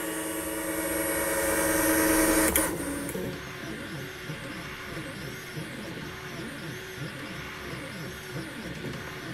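An EasyThreed K1 budget 3D printer starting a print: a loud whine fades out, then steady stepper-motor whirring follows in a repeating rhythm of sweeping, warbling tones close by.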